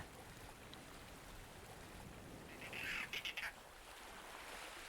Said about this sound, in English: Hey, bird.